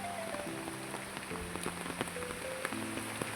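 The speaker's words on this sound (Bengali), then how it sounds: "দেখো আমাদের বৃষ্টি হচ্ছে কেমন, দেখো দেখছো বৃষ্টি হচ্ছে" Rain falls steadily on a village, heard from under a tree, a continuous pattering wash with occasional louder drips and a few faint tonal background sounds.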